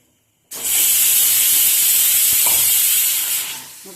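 Chili powder and salt hit hot oil in a pan with a sudden loud sizzle that holds steady for about three seconds, then eases off slightly.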